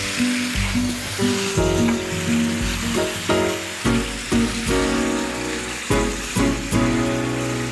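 Apple cider vinegar hits a hot pan with chicken, giving a loud, close hiss and sizzle heard beneath prominent background music with stepping tonal notes.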